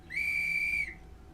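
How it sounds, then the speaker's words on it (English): A referee's whistle blows once at an XFL football game between the Houston Roughnecks and San Antonio Brahmas, a sharp, steady shrill tone lasting under a second over a low murmur of background noise. "I want to make sure the whistle's working."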